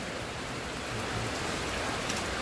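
Steady, heavy rain pours down in a dense, continuous hiss with a low rumble underneath, loud and close throughout.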